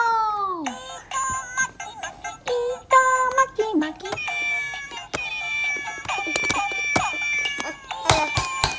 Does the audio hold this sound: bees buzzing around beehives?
no